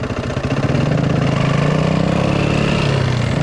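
A dirt bike engine idles and revs steadily at close range, a continuous mid-pitched motor drone with a slight rise as a kid works through the gears, no voices over it.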